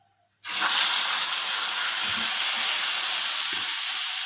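Tomatoes hit a hot pan with cauliflower (kusa gobhi) frying over medium heat, setting off a sudden loud sizzle that flares up and then holds as a steady, close hiss.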